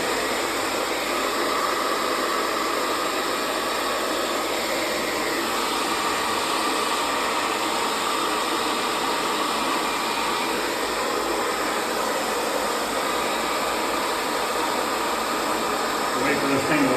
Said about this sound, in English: Go grab a hair dryer and we'll see if they'll come out.